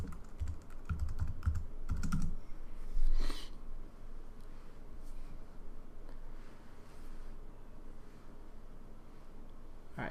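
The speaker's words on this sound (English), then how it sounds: "Type in my password." Password typed on a computer keyboard, a quick cluster of close keystroke clicks in the first few seconds, then quiet background with faint breathing.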